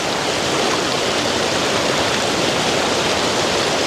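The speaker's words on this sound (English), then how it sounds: "See if we can make it across this torrent of water in one piece" Fast water pours over slippery rocks in a coastal torrent, a loud, continuous broadband rush with no breaks, close to the listener and steady throughout.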